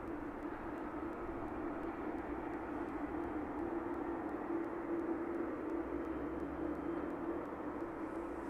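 Aerologic cargo jet taxiing out for departure at East Midlands Airport in the evening, a steady low engine drone holding at moderate level throughout, with no talk.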